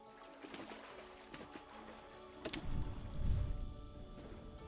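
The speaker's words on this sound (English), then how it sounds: "oh, hello, boat horns. Multiple boat horns." Several low, sustained boat horn tones from a video game overlap in a steady drone, with a rumbling swell building in the middle.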